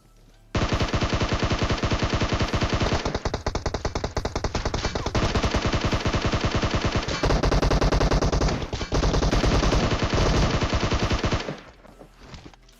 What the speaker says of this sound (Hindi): खैर जैसे तैसे करके एक दो गोली चिपकाता हूँ मैं